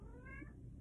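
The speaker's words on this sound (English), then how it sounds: "my cat driving me nuts, as you can tell. I'm sure you can hear her." A house cat gives a single short, fairly faint meow indoors, standing alone without any talk.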